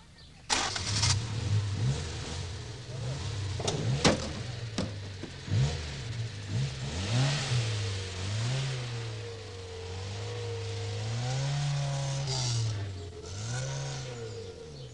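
A car engine cranks and catches, then revs repeatedly in rising and falling surges over a steady idle, close and loud throughout.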